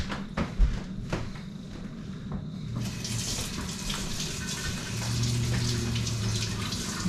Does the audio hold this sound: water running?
yes